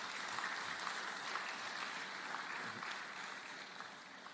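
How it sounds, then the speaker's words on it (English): Audience clapping at an IMF regional economic outlook event for Sub-Saharan Africa, a steady, dense wash of applause that holds evenly throughout and fades slightly toward the end. "Please clap very well now."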